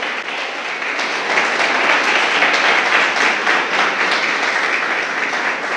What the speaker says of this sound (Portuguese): aplauda ao Senhor se você crê nisso